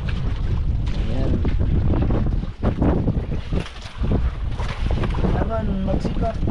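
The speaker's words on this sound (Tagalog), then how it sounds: "Laki-laki yung alon ngayon." Loud, continuous wind and water rush around a longline fishing boat on rough seas with big waves, steady and close, with brief dips, while a voice speaks over it.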